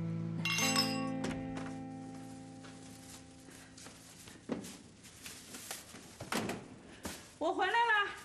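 Glasses chink together in a celebratory toast at a wedding banquet, a bright cluster of clinks near the start, followed by quieter clatter and people talking.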